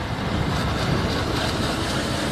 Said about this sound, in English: The bike is getting washed.